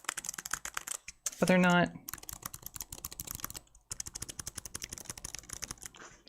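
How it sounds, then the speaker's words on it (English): Rapid clicky keystrokes on a Mistel Air 1 low-profile keyboard with blue-style clicky switches, close and continuous, briefly under a spoken voice. "Mistel Air 1 is the name of this keyboard"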